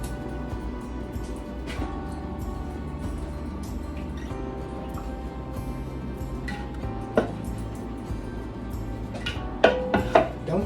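Metal pot handled while hot homemade apple butter is moved into a Dutch oven, with scattered clinks and taps, a few sharper knocks near the end, over a steady low kitchen hum.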